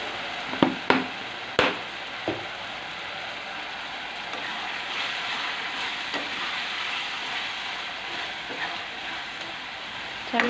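Egg tomato curry being stirred in a pan after a sprinkling of chili powder, a steady sizzle and frying hiss running throughout with a few sharp spoon scrapes and clacks against the pan early on.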